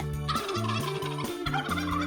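Cartoon turkey gobbling in a rapid, warbling burst of loud, wavering calls repeated several times across the clip, standing alone without any talk over it.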